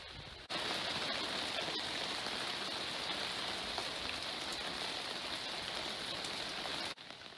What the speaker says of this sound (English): Driving rain and pissing sleet.